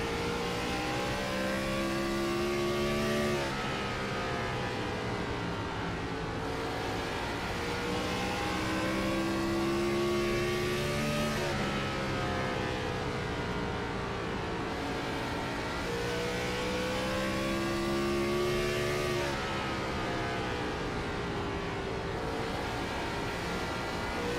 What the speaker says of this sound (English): Listen to some throttle input here.